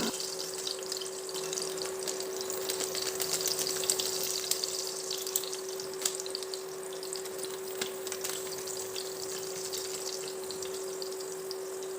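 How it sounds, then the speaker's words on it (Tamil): Whole biryani spices, bay leaf and cinnamon among them, fry in melted ghee with a little oil, giving a soft continuous sizzle with faint crackles and a steady hum in the background, quiet and unbroken. "நெய் நல்லா உருகினதும் அந்த கிட்டில் இருக்கிற வாசனை பொருட்களை கட் பண்ணி சேர்த்துக்கலாம்."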